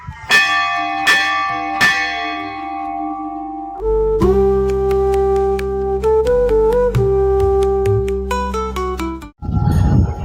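Hanging bells at the Chitai Golu Devta temple in Almora ring loud and close. Three spaced strikes come first, then a quick, uneven run of many overlapping rings, and the sequence ends in a short noisy burst.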